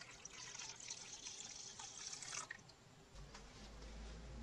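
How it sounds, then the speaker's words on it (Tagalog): Water is poured into a mixing bowl holding beaten eggs for a Christmas puto batter, a faint, steady trickle and splash heard close in a quiet kitchen. "Tubig."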